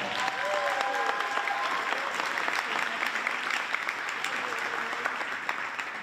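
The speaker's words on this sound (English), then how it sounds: "Give them one more round of applause" A high-school band concert audience applauds the soloists on alto sax, trombone and trumpet with a dense, even wash of clapping that holds steady and moderately loud, with a few voices faintly underneath.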